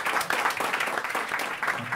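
An audience at a club event applauds with brief, steady clapping that is moderately loud. A voice talks faintly underneath.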